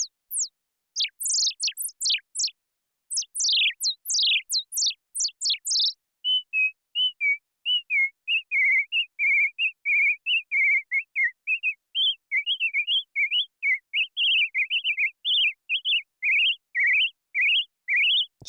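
A synthesizer with modulated filter depth and frequency imitates bird calls. Quick falling chirps come first, then a long run of wavering, trilling tweets, clean and isolated against silence.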